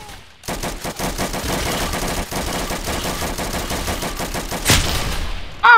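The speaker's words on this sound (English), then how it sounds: "That was a rifle, man." Rapid rifle and machine-gun fire from a Roblox trench war game called Entrenched, a dense steady stream of loud shots with a bigger burst near the end and no talking.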